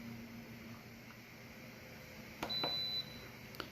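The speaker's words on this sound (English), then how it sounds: "So that beep you just heard, I just turned off the Instant Pot" A short electronic beep from an Instant Pot being turned off sounds over a steady low hiss, with a faint click at the end.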